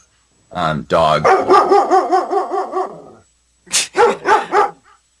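A dog barks loudly and close up in a rapid run of yips and barks, pauses, then lets out a few more sharp barks.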